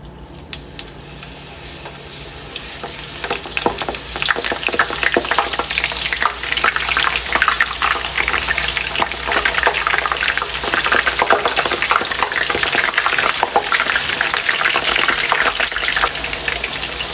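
Eggplant pieces fry in hot oil in a pan for an Afghani borani banjan dish, giving a loud, dense, continuous sizzle with crackles that starts softer and swells to full strength after a few seconds.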